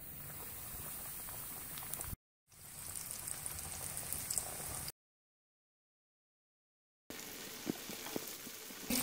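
Chicken pieces frying in hot oil for KFC-style crispy fried chicken, a steady dense sizzle and bubbling that runs continuously, broken by two abrupt silent gaps before the frying resumes, with no voices.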